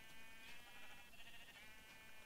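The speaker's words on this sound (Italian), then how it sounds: "ho visto una pecora, aspettate." Sheep bleating in the video game Minecraft, a few short bleats over steady game background noise, with no talk.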